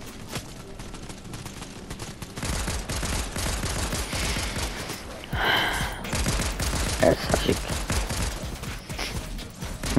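Rapid gunfire in the Fortnite video game, a dense stream of shots and battle noise that runs through the whole stretch at fairly close range, with a voice talking over it.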